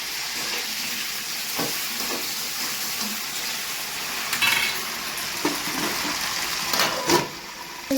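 Chillies fry in hot oil for a chicken gravy with ridge gourd and horse gram, giving a steady, close sizzling hiss broken by a few sharp stirring clatters and spatters.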